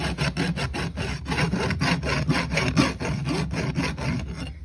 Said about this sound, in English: when you're rasping, you're not coming up here and hitting the hairline of the hoof capsule.